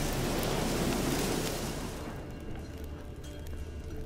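Steady rain in the video game The Witcher 3, a broad hiss that is heavier at first and then eases to a softer, even patter with no talk.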